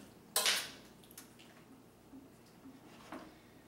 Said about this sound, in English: Going to give them a nice little stir.